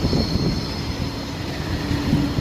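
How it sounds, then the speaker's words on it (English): Trams roll along a rainy Basel city street in winter, giving a loud, continuous rumble with a faint high whine and rhythmic wheel thumps nearby, and no voices. "So many trams though"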